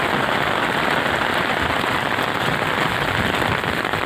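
Heavy rain pours down steadily and loudly on the village of Nathwas, a dense continuous hiss of drops hitting surfaces with no pauses.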